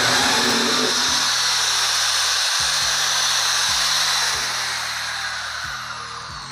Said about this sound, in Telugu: అండ్ ఇప్పుడు నేను ఒక 4mm బిట్ పెట్టి అయితే టెస్ట్ చేస్తున్నాను.